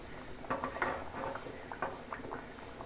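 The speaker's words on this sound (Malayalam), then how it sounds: "നമ്മുടെ മീൻകറി തിളച്ചിട്ടുണ്ട്" Fish curry with kudampuli and chilli bubbling in a pot, soft irregular popping and liquid blips close by, fairly quiet and steady throughout.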